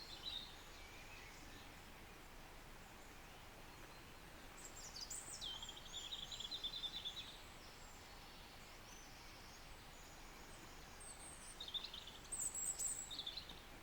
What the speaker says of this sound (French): On entend les oiseaux chanter.